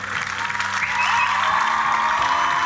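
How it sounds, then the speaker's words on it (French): A studio audience at a televised singing contest applauds in a short, steady burst, with music playing underneath and a faint voice over it. "Applaudissements pour Hans, s'il vous plaît."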